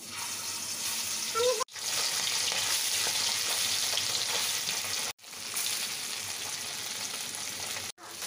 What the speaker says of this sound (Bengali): আমি আগে মাছ ভেজে নিই